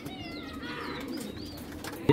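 A yellow-eyed cock pigeon coos softly and steadily, close by, with faint bird chirps in the background and no talk.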